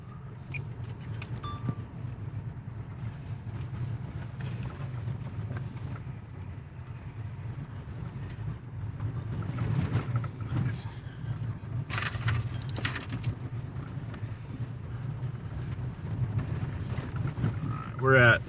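A 2024 Toyota Tacoma Limited pickup driving off road in normal mode, with steady low rumbling drone and occasional rattles and wind buffeting inside the cab, and a voice talking over it throughout.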